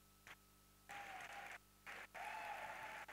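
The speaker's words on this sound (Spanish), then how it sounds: "Dele ese aplauso a Jesús." Church congregation clapping in praise during a sermon, bursts of applause starting and stopping against a quiet backdrop, with a sustained tone running under the clapping.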